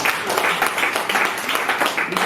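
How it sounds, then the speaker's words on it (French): An audience applauds during a company presentation of Afric Conseils Group, a dense, steady wash of clapping with some speech-like texture mixed in, moderately loud throughout. "Monsieur Miché, qu'on applaudit."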